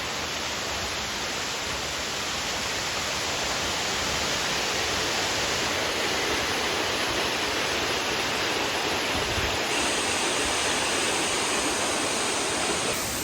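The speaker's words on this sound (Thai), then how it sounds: "อยากให้เบิ่งบรรยากาศน้ำตก" A waterfall at a rural home in Thailand roars as a dense, steady rush of water, loud and close, unbroken for the whole stretch with no voices.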